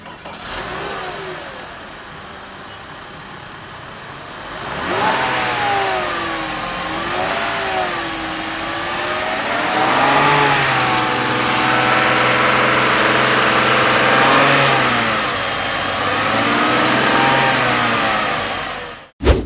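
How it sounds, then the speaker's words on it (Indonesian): A low-mileage original Mercedes-Benz W124 E320 cranks and catches, then idles and is revved in several rising and falling sweeps up close before settling back. "Sekarang kita nyalain mesinnya."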